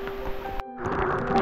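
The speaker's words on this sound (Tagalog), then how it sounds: "Yun na yung ulan, kumukulog na." Rain pours through a remote forest trail on a rugged traverse from Minalungao to Biak na Bato, with thunder, a dense steady hiss that breaks off briefly before returning heavier.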